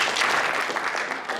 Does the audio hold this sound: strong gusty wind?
no